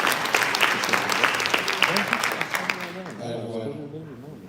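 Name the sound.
applause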